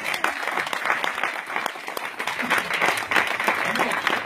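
A church congregation breaks into loud, sustained applause and cheering during a sermon, dense clapping with voices mixed in throughout.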